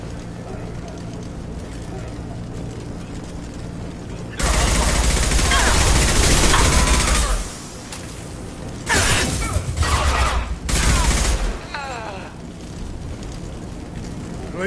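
Gunfire in the video game Mass Effect 2, where Blue Suns and Orcha mercenaries shoot it out: loud bursts of rapid automatic fire in two main stretches over steady background ambience, with voices talking in between.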